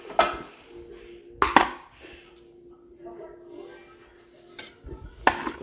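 Lids placed over food dishes of rice and prasad in a home kitchen, giving a few sharp metallic clanks and clinks spread apart, with a voice talking softly between them.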